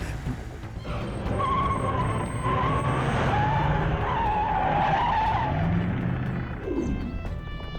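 A car skids hard during a movie car chase, with screeching tires and a roaring engine rising and falling across several seconds, loud and close, with no talk over it.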